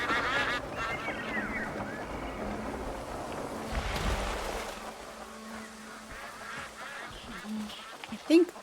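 Ducks in the video game Crimson Desert give honking quacks amid a dense game soundscape, with a voice talking over them and the calls thinning out toward the end.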